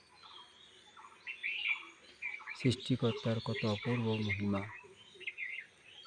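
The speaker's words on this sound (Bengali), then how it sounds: "পাখিদের কিচিরমিচির ডাক" Small birds chirp and tweet in scattered bursts in a quiet early-morning setting among rows of trees, with someone speaking softly over them midway.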